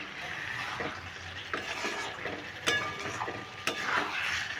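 Prawn, pumpkin and potato curry being stir-fried in a pot with a little water, giving a soft bubbling sizzle under occasional sharp spoon clinks and scrapes against the pan.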